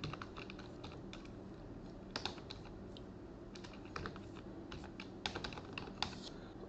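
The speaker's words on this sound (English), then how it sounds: "I'm going to type here" Typing on a computer keyboard during a Windows Server setup, quick bursts of close, crisp key clicks separated by short pauses over a quiet background.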